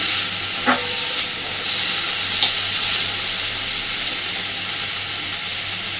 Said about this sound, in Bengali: তেলের ওপরে প্রথমেই রসুনটা দেবেন তাতে করে সুন্দর একটা গন্ধ বেরোবে রসুনের